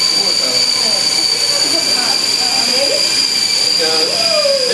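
A freshly calibrated helicopter flies nearby, giving off a steady, high-pitched motor and rotor whine that holds constant and loud throughout, with faint shifting tones beneath.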